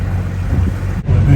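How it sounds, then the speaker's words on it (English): Twin boat engines hold a steady, loud low drone at 1800 RPM on each engine during a squall with wind and rain, the hum briefly dipping before resuming just as strongly. "We've been running at 1800 RPM on each engine for half an hour"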